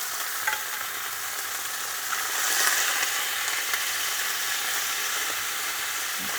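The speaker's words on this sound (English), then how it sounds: "So now we're cooking the pork chops" Pork chops frying in olive oil in a pan, a steady, even sizzle and hiss that swells a little midway, close up and continuous with no talking.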